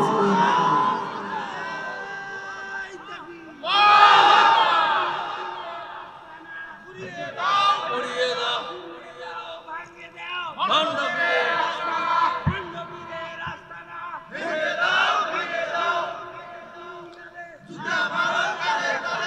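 A large crowd at an outdoor Islamic sermon gathering in Rangpur shouts takbir in loud collective bursts, several waves of massed voices rising and falling over about twenty seconds, alternating with a preacher's amplified call.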